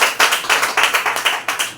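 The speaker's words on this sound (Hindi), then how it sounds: "एक बार जोरदार तालियां हो जाए प्रभु के नाम से।" A church congregation at a Wednesday worship service claps loudly in sharp, distinct bursts, roughly a dozen strong rhythmic claps close by, with no talking over them.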